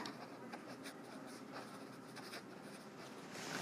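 A pen scratches quick notes onto paper at a desk, with soft, rapid strokes and small taps that continue steadily and close up, with no talking.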